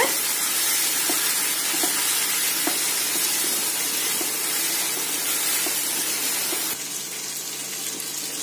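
Tomatoes frying and being stirred in a pan for Malabar chicken dum biryani, a steady loud sizzle with occasional spoon scrapes and taps, the hiss dropping slightly near the end.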